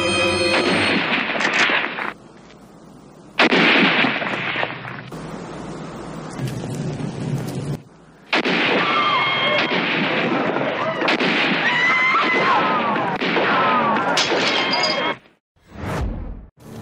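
Sniper gunfire in a war film cracks out in sharp bursts amid a dense, loud cinematic soundtrack with explosions and whooshes, the sections cutting abruptly in and out to near silence.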